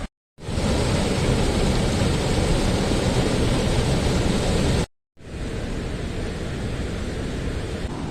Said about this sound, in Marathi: आज सकाळपासूनच पावसानं जोर धरलो आहे